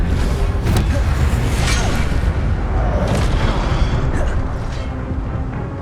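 Roaring, continuous blast of a fire spell in Hogwarts Legacy, a dense loud rush with a few sharper bursts layered throughout and no pauses.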